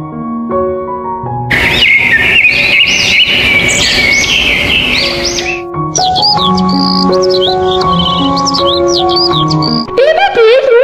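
A cartoon tailorbird in a Bangla fairy-tale cartoon gives bright, wavering chirps and tweets over a loud, steady musical backing, with no voices heard.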